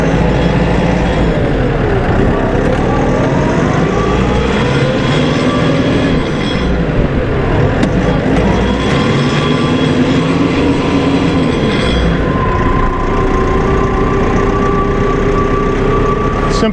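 A Kioti RX tractor engine runs loud and close as the machine pulls away in first gear, with a steady drone and rising, shifting mechanical tones.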